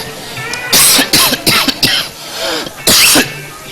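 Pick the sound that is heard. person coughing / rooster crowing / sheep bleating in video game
person coughing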